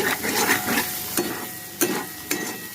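A soybean gravy masala being stir-fried in a pan sizzles steadily and close up, broken by sharp spatula scrapes and taps against the pan.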